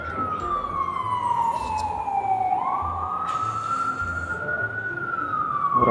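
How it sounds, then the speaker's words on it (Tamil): Ambulance siren on a busy New York City street, its wail sweeping down then back up in long cycles, loud and continuous over steady traffic and street bustle. "ஒரு ஆம்புலன்ஸ் ஏதோ வருது."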